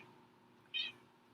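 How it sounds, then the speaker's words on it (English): Pet cat Tasha gives a single short, high meow partway through, faint and slightly distant over a quiet room hum, with no talk. "Y'all hear my little cat?"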